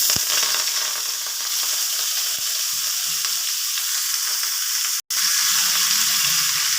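Radish greens frying in a hot pan, a continuous close sizzle and hiss with a few faint knocks and one brief sharp break partway through, no talking.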